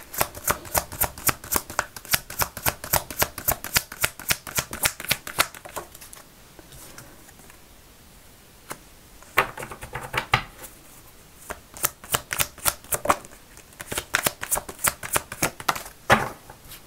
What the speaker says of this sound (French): Je fais mon tirage et je vous parle après.